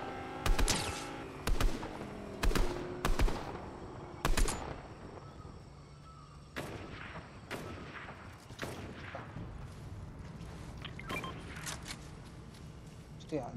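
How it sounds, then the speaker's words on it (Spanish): Gunfire in an online shooter video game, with sharp loud bursts of shots in quick succession early on, then scattered quieter shots and background battle noise, while players talk over it. "Sí, aquí hay tiros."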